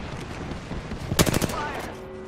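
A short burst of rapid gunfire from the Apex Legends video game, crackling through continuous game noise with a voice underneath.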